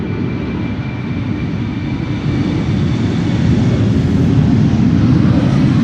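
A 30-year-old Saudi Cargo freighter on flight 934 taking off from the Polderbaan runway at Amsterdam Schiphol, a loud, close, steady engine roar that builds slightly and continues throughout.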